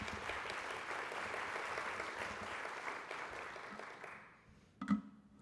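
An audience at a housing finance conference claps in a steady, moderate burst of applause that tapers off and ends, followed by a brief bump of handling noise.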